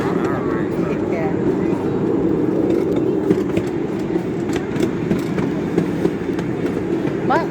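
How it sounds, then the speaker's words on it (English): A miniature amusement park train, the Old Smoky ride at Knoebels in Elysburg, rumbles steadily along with a low continuous clatter, voices murmuring faintly beneath, and a brief squeal near the end. "It's a nice little train ride."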